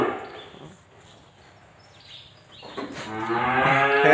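A pair of five-month-old beef cows on a farm for sale, one giving a long, rising moo that grows loud and close after a quiet stretch, with no talk.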